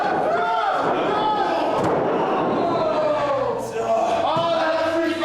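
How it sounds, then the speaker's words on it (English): At a women's wrestling event, a wrestler is thrown to the floor with a dull slam amid loud crowd noise and cheering, while a commentator talks continuously over the action. "And throws Shreddz to the floor."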